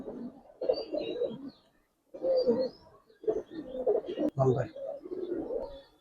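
Silver Giribaz and colouring pigeons cooing in soft low bursts at close range, mixed with people talking.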